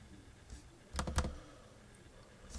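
Two quick computer mouse clicks close together, a crisp near double click against quiet room tone, with a faint tap before and another soft click near the end.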